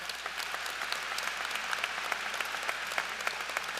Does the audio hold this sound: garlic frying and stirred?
no